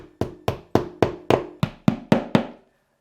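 Nine sharp, evenly spaced hammer taps driving a plastic anchor into drywall, each ringing briefly, close and fairly loud, then silence.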